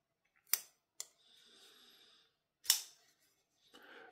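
A QSP Kali pocket knife's button lock snaps open and shut in sharp, crisp clicks, about four distinct snaps spaced across a few seconds, close and fairly quiet with faint handling noise between them.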